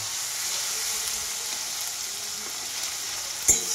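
Tomatoes fry in a pan with a continuous close sizzle, broken near the end by a single clack of a spoon against the pan.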